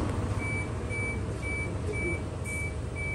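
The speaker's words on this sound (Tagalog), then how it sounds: "So parinig ko sa inyo yung OEM chime" A Suzuki Jimny's OEM chime from a remote start system sounds a steady series of evenly spaced short beeps, five in about three seconds, over a low idling rumble.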